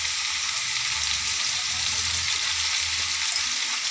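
Vegetables with salt and turmeric fry in a pan, a dense continuous hiss of sizzling oil with a low rumble beneath, steady and close, with no voices.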